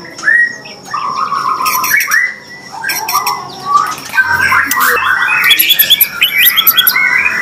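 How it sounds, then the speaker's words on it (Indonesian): A magpie-robin (murai batu) sings up close and loud, with varied whistled phrases, quick chirps and rapid trilled notes that rise and fall with brief pauses between them. "kita pantau burung murai yang ini ya"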